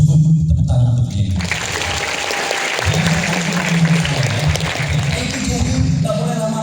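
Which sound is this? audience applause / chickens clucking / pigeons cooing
audience applause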